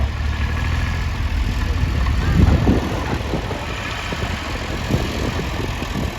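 An early vintage John Deere petrol tractor engine runs steadily during a tractor ring parade at a steam fair, a continuous mid-to-low throb that swells slightly midway.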